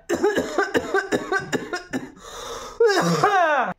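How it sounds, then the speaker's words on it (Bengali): A run of harsh, repeated coughs close up, several bursts in quick succession, ending in a louder, rasping cough with a strained, wheezy tail. "শীতকালে কি হয়, সবসময় কাশি হয়"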